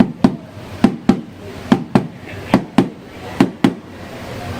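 A deep, single-tone Native American hide hand drum struck in single beats with slightly uneven spacing, some hits close together and others spread apart, loud and near.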